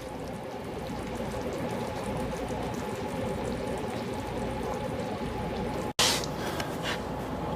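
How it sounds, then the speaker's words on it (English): Nacho cheese sauce for Welsh rarebit bubbling and simmering in a pan, a steady dense crackle of small pops close by, with a brief sharp clunk near the end. "Glistening, bubbling cheese sauce full of all different textures and flavors."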